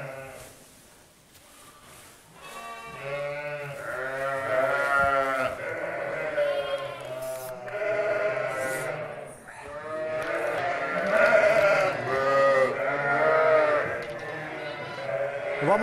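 Lambs and sheep bleat repeatedly and loudly on a pastoral farm, several overlapping calls close by, with a person's voice talking among them.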